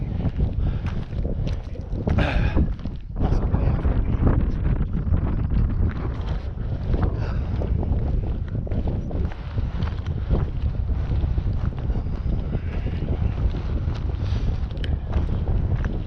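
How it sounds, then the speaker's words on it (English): Strong wind blows steadily and roughly across the summit of Skiddaw, buffeting the microphone with loud continuous gusts and no voices. "Now the wind is coming from my left"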